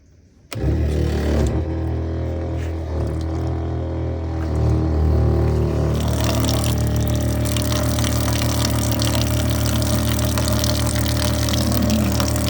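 A Pumptec or Sandia-type pressure washer pump is switched on abruptly and settles into a loud, constant mechanical drone, then grows noticeably harsher and louder partway through as it keeps running.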